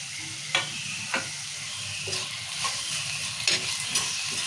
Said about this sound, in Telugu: ఇప్పుడు టమాటాలు వేసుకుందాము